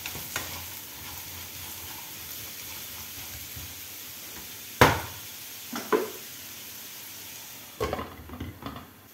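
Salted potatoes fry in a covered pan with a steady, soft sizzle. A few sharp clanks and clatters of the lid or utensils break in, with no talking.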